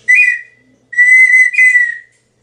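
Wooden partridge call whistle, professionally made, giving a clear high-pitched note followed after a pause by a longer two-part whistle, close and loud with no talking.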